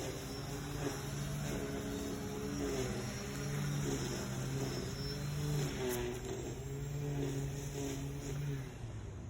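Small duct-taped quadcopter hovering in altitude hold, a steady buzzing whine of motors and propellers with slight pitch wobbles as it holds position, moderately near and fairly quiet, no talking.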